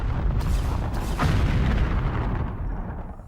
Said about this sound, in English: A terrible explosion,